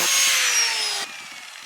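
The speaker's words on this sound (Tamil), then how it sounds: "இந்த ஸ்ப்ரிங்கில் பார்த்தீங்கன்னா 2 பீஸ் சின்னதாக வந்து கட் பண்ணி எடுத்துக்கிறேன்." A metal spring is cut into two small pieces for a coconut tree climbing robot, a loud, harsh cutting screech lasting about a second before dropping to a quieter trailing rasp.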